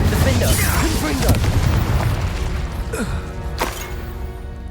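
Confringo explosion spell in Hogwarts Legacy, a loud fiery burst that rumbles and crackles over several seconds, with a second sharp hit partway through as the blast trails off.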